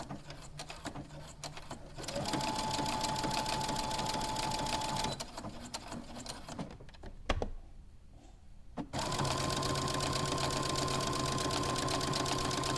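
A sewing machine runs a thick triple straight stitch with a loud, fast, even whir, pauses briefly for a near-silent gap, then starts up again and keeps stitching to the end.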